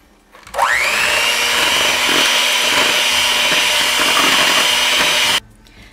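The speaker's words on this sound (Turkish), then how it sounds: "Bunları bir çırpalım." An electric mixer whisks four eggs with a cup of sugar for a two-tone zebra sponge cake, a loud, steady motor whine that starts abruptly, holds for about five seconds and then cuts off, with no talking.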